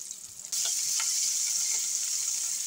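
Half an onion hits hot oil in a pan at home and bursts into a loud, steady sizzle that carries on without a break, with a few soft clinks of a spoon near the start.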